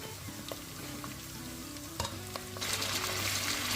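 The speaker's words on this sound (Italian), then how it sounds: "versiamo all'interno circa 3 o 4 cucchiai di olio extravergine e facciamo rosolare bene la cipolla. Quindi mettiamo all'interno anche la carne" Onion and meat brown in extra virgin olive oil with a steady sizzle and the occasional scrape of stirring, and the frying grows louder near the end. Nobody talks.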